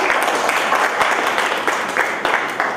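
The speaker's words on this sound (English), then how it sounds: "I'd like to please ask for a round of applause for that" A book-release event audience gives a round of applause, fairly loud and close, with a mix of scattered distinct claps over a continuous clapping wash that tapers slightly toward the end.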